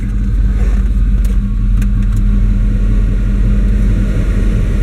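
A car engine with throttle body injection and low fuel pressure idles close by with a steady low rumble and a faint uneven wobble, running alone for about five seconds.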